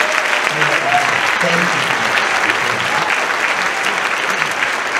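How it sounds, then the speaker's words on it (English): An audience gives sustained applause to two female singers at a concert, a full, steady clatter of clapping while a voice briefly speaks over it. "let's give one more round of applause to these two ladies here."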